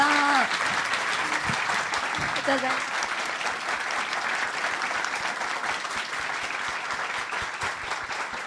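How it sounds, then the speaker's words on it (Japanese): An audience at an idol event in Shibuya applauds continuously, a dense steady clapping that holds at the same level, with a brief voice near the start. "登場していただいたアイドルの皆さんに大きな拍手をお送りください"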